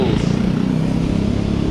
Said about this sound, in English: Motorcycle sounds like bubbles.